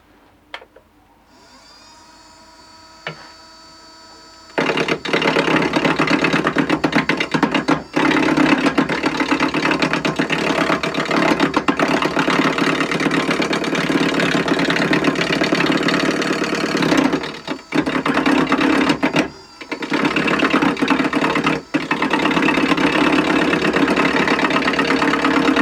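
A wood lathe turning an ash bowl blank spins up from a quiet hum into a loud, steady whirring drone, broken by several short dips and one longer drop, with no talking.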